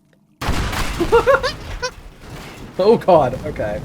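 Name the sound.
explosions in video game Teardown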